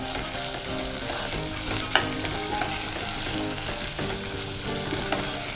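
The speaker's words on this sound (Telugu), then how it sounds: "ఇది కూడా కొంచెం ఫ్రై అవ్వాలి." Masala and seeds fry in oil for veg biryani, a dense, even close-up sizzle with occasional stirring scrapes and one sharper clack; no voices.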